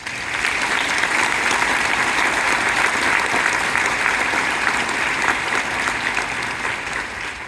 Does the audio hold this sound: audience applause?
yes